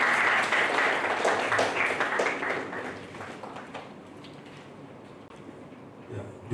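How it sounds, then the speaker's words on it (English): An audience at the 2019 National Smallholder Farmers' Summit in Ghana gives a loud round of applause that fades away after about three seconds, leaving quiet room tone. "Please let's give a round of applause."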